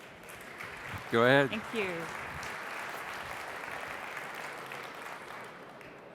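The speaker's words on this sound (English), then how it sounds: "let's give a warm round of applause" Audience applause for the keynote speaker at a d!talk conference event, a steady moderate wash of clapping running throughout, with a voice briefly speaking near the start.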